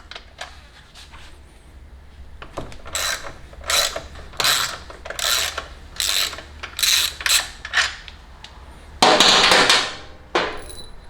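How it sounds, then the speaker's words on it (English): A ratchet removes a 14 mm frame bolt on a 2019 Kawasaki Ninja ZX6R 636, with bursts of rapid metallic clicking in a repeated stroke rhythm, close and fairly loud, separated by brief pauses. "So on this side, this is the 14 millimeter bolt you remove first."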